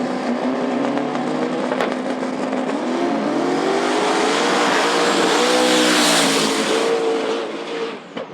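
Drag racing cars launch and roar down the strip at Knoxville Dragway, a loud sustained engine howl with rising revs and tire noise that fades near the end.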